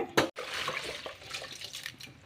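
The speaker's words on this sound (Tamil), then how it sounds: "தண்ணி ஊற்றி நல்லா அலசி எடுத்துக்கோங்க மூணு தடவை அலசி எடுத்துக்கோங்க" Urad dal and fenugreek seeds being rinsed in water, close splashing and swishing of water and grains with a sharp initial splash followed by steady sloshing.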